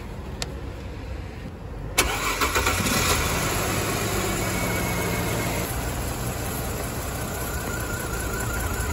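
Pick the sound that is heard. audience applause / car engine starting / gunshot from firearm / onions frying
car engine starting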